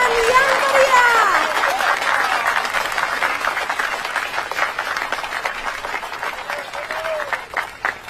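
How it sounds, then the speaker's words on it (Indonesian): Guests at a birthday celebration give lively, sustained applause, a dense wash of clapping with crowd noise and a few whistle-like tones near the start, tapering slightly toward the end. "mari kita sambut dengan tepuk tangan yang meriah"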